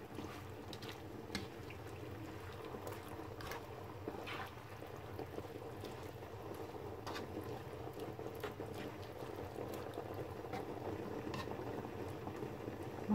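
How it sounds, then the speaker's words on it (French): A pan of pork and chicken jelly liquid simmers and bubbles on the stove, a soft, steady seething with faint pops, quiet and continuous throughout. "On attend qu'il de bouillir pour s'arrêter."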